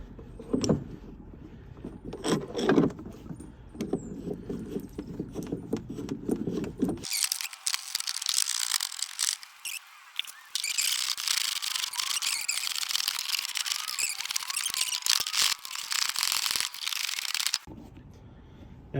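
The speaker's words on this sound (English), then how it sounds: "you're going to have your spring compressors compressing this strut" Coil spring compressors tightening down on a Ram 1500 5th Gen strut during a Rough Country 3.5-inch lift install, a long steady high mechanical whir from a power tool running close, preceded by handling clatter and rustling.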